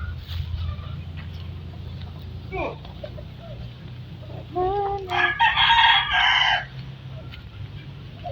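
Hens cluck softly nearby before a rooster lets out a loud crow, with a low background hum and scattered rustling.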